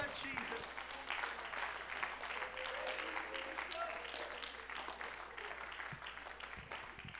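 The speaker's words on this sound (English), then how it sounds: "Why don't we give the Lord a hand clap of praise?" A church congregation claps hands in praise during a Sunday evening service, a dense, steady wash of applause filling the room, with voices and cheers mixed in throughout.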